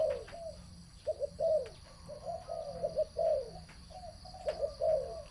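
Two spotted doves coo back and forth in repeated soft, hooting phrases, steady and fairly close, over a faint outdoor hum.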